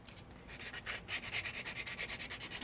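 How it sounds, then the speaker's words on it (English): Abrasive scuffing along the bottom edge of a car side skirt, prepping the surface so super glue will hold: a steady run of quick, rhythmic rubbing strokes, close and fairly loud, with no voices. "Just scuffing up this bottom so that way it will hold some super glue."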